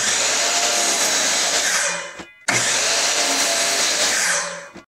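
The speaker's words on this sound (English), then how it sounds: "we're going to clean these boards up just a little bit by sawing off the ends where the screw holes are" Power saw cutting the ends off wooden fence pickets: a loud sustained whine for about two seconds, a brief stop, then a second equally loud cut that winds down at the end.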